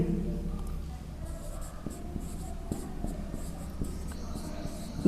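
Chalk or marker scratches and taps while a teacher writes out physics equations in a lecture room, short irregular strokes over a constant low room rumble.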